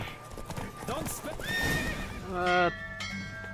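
A horse whinnies and hooves clip-clop after a horse race in the video game The Witcher 3: Wild Hunt, mixed with voices talking over the sounds.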